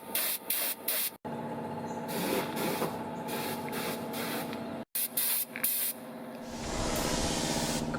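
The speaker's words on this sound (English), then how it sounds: "So we are spraying primer right now." A spray gun hisses as it sprays primer onto parts of a Mercedes expedition vehicle, coming in short bursts, then longer sustained passes with brief breaks, close and steady with no talking.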